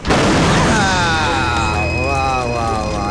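A loud explosion bursts at the start, then a long rumbling, whistling tail as debris and echoes fade, with voices faintly underneath.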